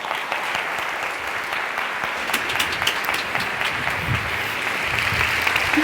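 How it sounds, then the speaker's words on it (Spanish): A science club audience applauds at length, a dense continuous wash of clapping that holds steady and swells slightly toward the end, with a few sharper individual claps standing out. "¡Aplaudan!"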